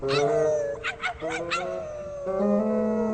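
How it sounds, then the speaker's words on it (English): A cartoon dog howls at a bright moon, with a long wavering howl, a run of short yipping pulses in the middle, then another drawn-out howl. It sounds close and clear, with no other voices. "with a moon that bright, a dog's just gotta howl"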